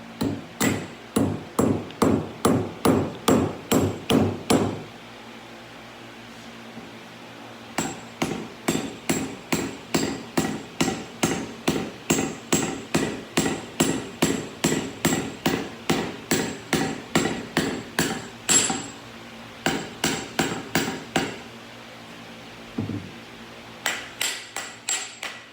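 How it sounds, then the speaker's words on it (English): Steady metallic hammer strikes driving a wedge in, dozens of ringing blows in fast regular runs broken by short pauses, close and loud with no talking. "So now I'm just going to pound that in."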